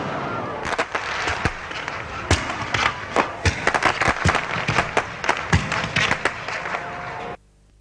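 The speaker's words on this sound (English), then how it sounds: "The night's entertainment ended with a fireworks display" A nighttime fireworks display closing an evening of local entertainment, with a steady crackling wash broken by repeated sharp bangs and pops at an irregular rhythm, fairly close and loud, stopping abruptly at the end.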